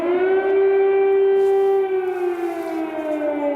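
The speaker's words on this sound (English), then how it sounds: "those air raid sirens have been sounding in Kyiv and in other cities" Air raid siren wailing over Kyiv during fighting on the outskirts of the capital, a loud sustained rising-and-falling tone with rich harmonics, steady throughout.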